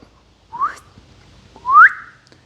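A person whistles two short rising notes, each a quick upward swoop, clear and close with a pause between them, in a quiet setting.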